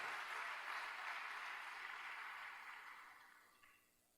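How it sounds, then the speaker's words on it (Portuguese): Church congregation applauding the Lord, a broad wash of clapping that holds steady before fading out toward the end, fairly quiet and with no voices over it. "Você pode dar um aplauso ao Senhor?"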